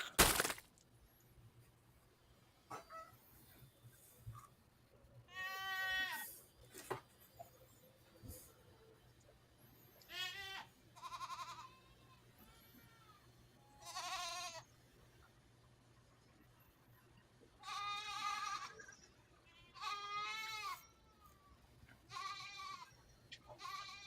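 Goats bleating in repeated wavering calls spaced a few seconds apart, fairly faint against a low steady hum, with a sharp crack at the start.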